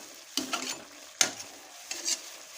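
Cauliflower masala (gobi masala) being stirred in a pan, a few separate scraping strokes with soft sizzling between them, close and fairly quiet, with no voices.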